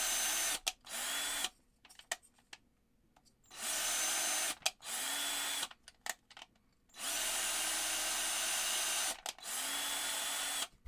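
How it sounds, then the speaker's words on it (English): A small power drill with a 3mm bit reams out holes in a 3D printed RC suspension arm for a Tamiya Hotshot, several loud whirring bursts of a second or two, separated by short pauses. "you want to make sure that you run a drill bit through every single one of these holes. A 3mm bit is what we're going to use"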